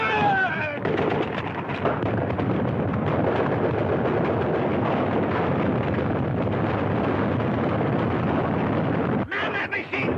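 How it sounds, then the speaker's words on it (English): Dense, continuous rattling bursts of machine gun fire in a war film battle scene, loud and rumbling with wind-like roar throughout, briefly pausing near the end, with shouted voices mixed in. "Man that machine gun!"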